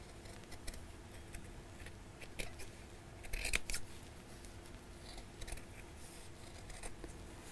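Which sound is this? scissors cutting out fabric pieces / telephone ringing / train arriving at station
scissors cutting out fabric pieces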